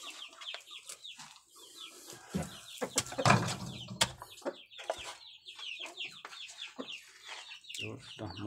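Free-range village hens and roosters cluck busily while feeding on breeder feed, a dense chorus of short clucks and squawks near and far, with faint voices now and then beneath.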